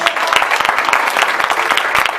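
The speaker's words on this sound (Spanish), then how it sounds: "Dale un aplauso a Dios." Close, loud applause from a church congregation during a sermon, a dense burst of clapping with distinct individual claps throughout the short stretch.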